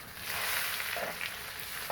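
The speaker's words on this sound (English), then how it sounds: "take the large spoon and just baste it" A rib eye steak sizzles steadily in an iron pan as it is basted with spoonfuls of juices, garlic and thyme, with soft scraping and spoon clinks over the continuous close frying hiss.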